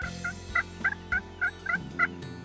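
Wild turkeys gobbling across a creek in Texas turkey country, a steady run of about nine short, rattling gobbles at a moderate distance, heard alone without talk.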